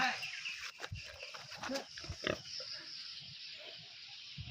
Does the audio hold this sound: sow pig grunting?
yes